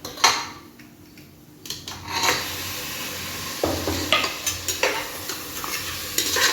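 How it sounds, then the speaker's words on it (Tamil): Chicken sautés in oil with garlic paste for chicken kulambu, a loud continuous sizzle broken by repeated scraping stirs and clanks of the spoon against the pan. "இப்போ சிக்கன் நல்லா வணக்கி விடுங்க"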